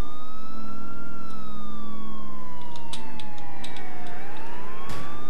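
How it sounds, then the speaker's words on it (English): A police siren in Grand Theft Auto IV sweeps slowly up and down, loud and continuous, over a low rumbling engine, with a few sharp clanks and a crash near the end. "Let's put in the sirens."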